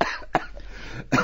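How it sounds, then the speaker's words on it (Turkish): A few sharp coughs from a person in a cold house waiting for a wood stove to be lit, three distinct bursts spaced unevenly over a second, close and fairly loud with no talk. "Bak sen de öksürüyorsun."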